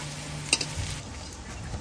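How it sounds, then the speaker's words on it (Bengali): Potatoes fry in oil with a soft, even sizzle and a quick clink near the start, close and moderately quiet, no voices. "এখানে হচ্ছে আলু ভাজা হচ্ছে"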